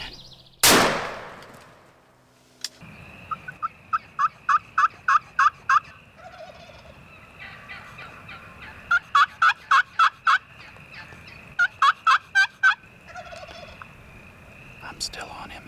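A wild turkey gobbles repeatedly out in the open a little distance away during a hunt, sharp rattling bursts coming in several clusters after a single loud bang near the start.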